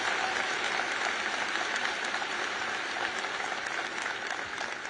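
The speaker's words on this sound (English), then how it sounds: "So I would like to get a round of applause for Dr. Bell" Sustained applause from a large crowd at a University of Alabama graduation ceremony, a dense, steady clapping wash that holds at an even level for the full stretch with no voices rising above it.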